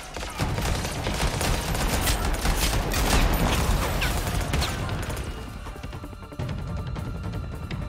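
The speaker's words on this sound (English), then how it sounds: "Did not see that coming. Just sudden gunfire." Sudden gunfire erupts in the sci-fi shooter game Anthem, a dense, chaotic barrage of shots and crashes that swells, then thins out and fades toward the end.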